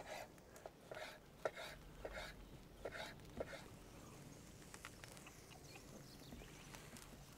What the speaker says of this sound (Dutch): Dan gaan we wat fijner snijden.